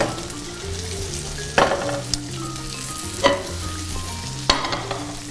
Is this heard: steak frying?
yes